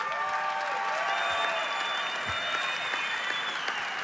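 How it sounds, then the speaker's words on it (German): A crowd at a Munich MMA event gives a standing ovation, sustained applause and scattered cheers filling the arena evenly throughout. "der Kampf verdient Standing Ovations"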